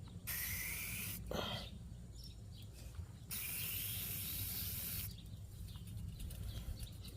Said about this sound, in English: I think I want to spray it one more time.